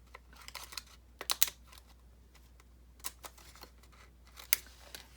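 Sharp, snippy scissor cuts come in quick irregular bursts, close and quiet, as a small bling paper flower is cut out for a junk journal page, with pauses between the snips.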